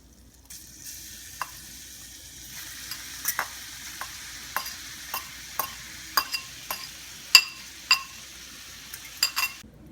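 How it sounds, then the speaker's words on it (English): Spaghetti squash is stirred into a butter, garlic and basil mixture in a pan, a soft sizzle beneath a dozen or so sharp utensil clicks and scrapes at an irregular rhythm, close and fairly quiet. "After you add in your basil, you mix in your spaghetti squash."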